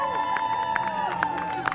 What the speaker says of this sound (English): So guys, can I get some cheering for JT Riddle?